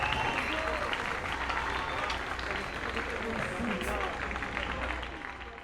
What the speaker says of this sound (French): Kebro, Avana Kundi, Marco, Manika Tirolier, on l'applaudit.